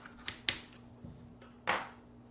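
A knife slices an apple in half for a baked apple pancake, giving a few sharp, brief cutting clicks on a board with a louder crunching cut near the end, close and fairly quiet.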